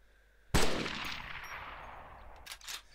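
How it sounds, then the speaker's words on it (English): A British armed forces gun fires in the video game ArmA 2 Operation Arrowhead: one loud, close shot with a crack that rings off into a decaying tail, then a pair of short metallic clacks as the reload mechanism slides back. "you can actually now hear the balls sliding back the reload mechanism"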